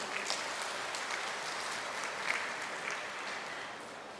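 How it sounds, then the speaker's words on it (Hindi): An audience at an Indian government commemoration event applauds a visiting minister, producing a faint, distant, continuous wash of clapping with a few sharper claps standing out. "जोरदार अभिनंदन करें अपनी तालियों की गड़गड़ाहट से"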